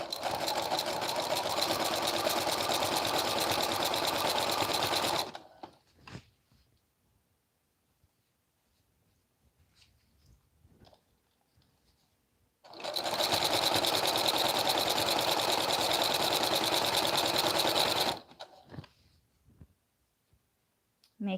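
A sewing machine tacks down a waistband in two long steady runs of stitching, each about five seconds, separated by a quiet pause filled with soft handling clicks and rustles.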